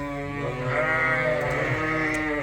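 Sheep bleat repeatedly and loudly at close range in a farm setting while grain is poured for them, their overlapping calls forming a continuous chorus with no talk.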